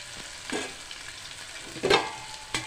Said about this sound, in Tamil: அதுக்கப்புறமேட்டு கருவேப்பிலை போடுங்க.